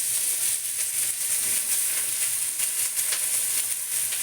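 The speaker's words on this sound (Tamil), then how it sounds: "எண்ணெய் காஞ்சி போச்சு. வெங்காயத்தை போட்டுக்கிறேன்." Onions hit hot oil and sizzle in a steady, dense hiss that holds unbroken and fairly loud from start to finish, with no talking.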